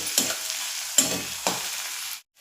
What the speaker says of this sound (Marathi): हे मसाले व्यवस्थित परतून घ्यायचे तेलामध्ये